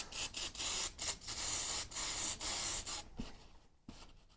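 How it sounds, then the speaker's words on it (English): Brake cleaner sprays from an aerosol can onto a plastic gas tank being prepped for welding, a close, hissing burst pulsing in short on-off bursts for about three seconds, followed by quieter faint handling knocks. "And I'm just using a little bit of brake cleaner here."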